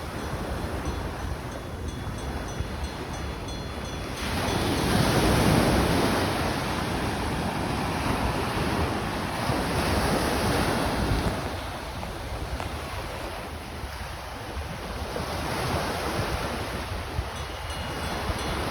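Ocean waves roll and wash in a steady broad roar, swelling briefly louder before settling back into a constant surging hiss.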